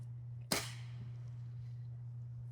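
A single sharp pellet gun shot is fired at a nest outdoors, one close crack over a steady low electrical hum, with silence afterward.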